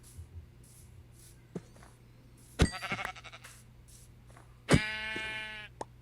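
Sheep in a video game bleat twice, each a loud, harmonic, wavering call, with soft clicks and a steady low hum between them.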